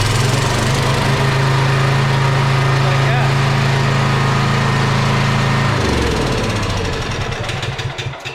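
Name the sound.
propane generator engine starting and running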